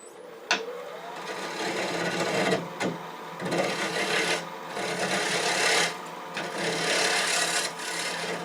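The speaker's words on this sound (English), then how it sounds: "I'm using a 5/8 inch bowl gouge." A 5/8 inch bowl gouge cuts a chunk of wood spinning on a lathe, giving a steady, close, scraping hiss that swells and dips as the tool moves across the bowl, with no talk over it.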